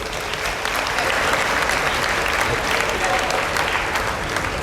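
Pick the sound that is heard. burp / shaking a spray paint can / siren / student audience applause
student audience applause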